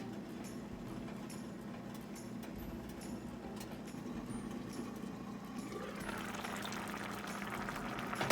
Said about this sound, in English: let this simmer for another 20 minutes with lid closed, or until the sweet potatoes are soft